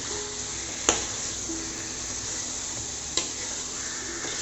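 Boiled eggs being stirred into a sizzling egg masala in a pan, with a steady frying hiss throughout and two sharp clinks of a spoon against the pan.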